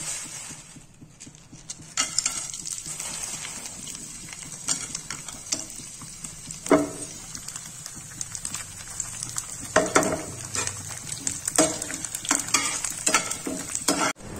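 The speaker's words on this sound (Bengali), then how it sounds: "সুন্দর করে পাঁপড়গুলো সব ভেজে নিচ্ছি।" Papad frying in a pan at home, soft sizzling with scattered crackles and clinks of stirring, fairly quiet and close with no talk.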